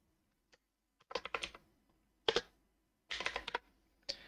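Quiet, close keyboard typing in several quick bursts of keystrokes separated by short pauses.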